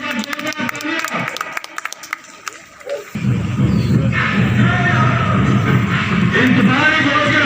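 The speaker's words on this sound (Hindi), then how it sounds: "एक बार जोरदार तालियां।" Audience applause at a stadium cultural programme: after a few seconds of scattered sounds, a dense wall of clapping starts abruptly and carries on loud and steady to the end, with no one speaking over it.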